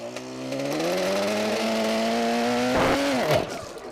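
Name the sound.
classic car engine running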